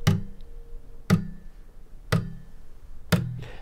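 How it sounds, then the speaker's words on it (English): Four short, dry percussive thumps from palm-muted guitar strings struck with an Engle, evenly spaced about a second apart, each a damped click with a brief low body and no ringing sustain. "your strings should now be muted and it should sound something like this when you hit the string"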